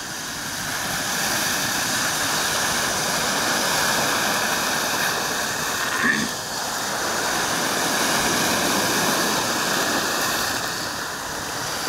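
Rough sea around an overloaded wooden boat heading out to open water, a steady broadband wash of waves and spray that rolls on throughout with one brief knock midway, no voices.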